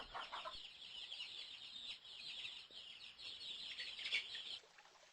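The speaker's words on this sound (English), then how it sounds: "This is a chicken." Chickens clucking on a farm, a continuous chatter of clucks and chirps from several birds, fairly faint and at middle distance, with no talk.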